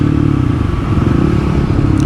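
A 2024 Kawasaki KLX300 dual-sport motorcycle being ridden on the way to a quarry, its loud, close engine giving a continuous rough, pulsing drone with rattling clatter.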